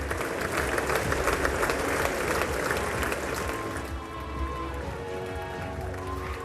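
Rapturous applause in the U.S. Congress chamber for Israeli Prime Minister Benjamin Netanyahu, a broad wash of clapping from many hands that gradually softens, with some faint background voices.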